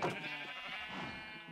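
A sheep bleating in the survival video game Terracotta, one wavering bleat at moderate volume, nearby and alone without talk.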